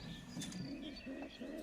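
A female pigeon coos softly in low, rounded repeated phrases, close by but quiet, over a faint background hiss.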